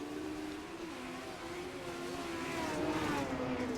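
Rallycross race cars run a heat at Charlotte Motor Speedway, their engines droning and rising in pitch at a distance, with a steady rumble that slowly grows louder.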